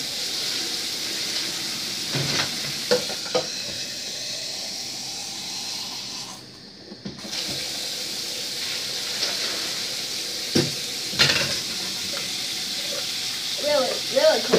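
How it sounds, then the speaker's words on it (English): Water is poured into a bucket for an ice bucket challenge, a steady close hiss and splash running throughout with a brief break, faint movement and handling noises around it. "I'm pouring in some water."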